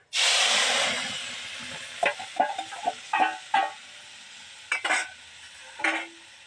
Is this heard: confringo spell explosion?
no